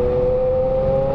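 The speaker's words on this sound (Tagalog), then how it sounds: "ganda ng tunog ng motor mga katolits" A steady motorcycle engine drone with a constant tonal hum and rumbling low end, like riding at even speed.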